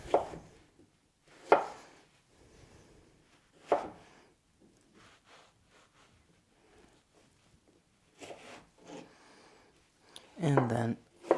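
A knife chops cucumber into sticks on a board, a few sharp isolated cuts spaced a second or two apart, ending in a quicker cluster of strokes, with quiet gaps between.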